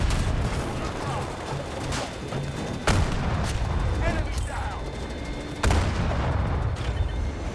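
Heavy tank cannon blasts in Battlefield 2042 boom out at intervals amid constant battlefield gunfire and mechanical clatter, with two especially sharp, loud detonations standing out from the dense din.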